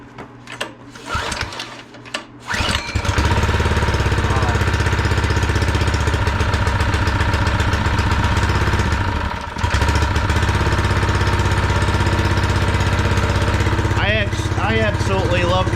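A brand-new Harbor Freight Predator small engine on a plate compactor is pull-started, catching after a brief sputter, then runs at a loud, steady, buzzing roar close by for the remainder, dipping briefly once.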